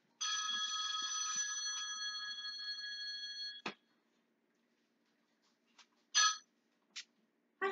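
A telephone rings with a bright electronic tone lasting a few seconds, then breaks off with a click, followed by sparse faint clicks and a couple of short sharp knocks in a quiet kitchen.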